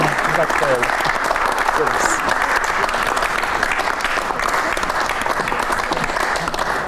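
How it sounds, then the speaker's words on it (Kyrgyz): A studio audience at a television show claps loudly and steadily for the whole stretch, a dense continuous roar of hands close by, with voices faintly under it. "Кол чаап коелу анда."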